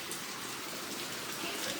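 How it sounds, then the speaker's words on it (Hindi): Heavy rain pouring at dawn during the rainy season, a dense, steady hiss of downpour with no break, moderately loud and even throughout. "और देखो कितनी तेज़ बारिश हो रही है।"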